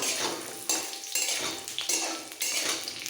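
Jujubes (kul) dropped into hot oil for chutney, with several scraping, clattering stirs of a utensil in the pan over a loud rushing sizzle, no talk.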